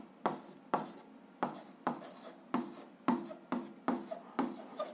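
A pen scratches out a graph by hand on paper, making a steady series of about ten short strokes at an even pace, each a crisp brushing scrape, quiet and close.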